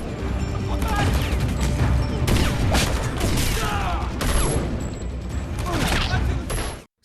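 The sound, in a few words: gunfire exchange in film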